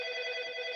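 A phone rings with a steady electronic ringtone that sustains continuously, close and moderately loud, with no talking over it.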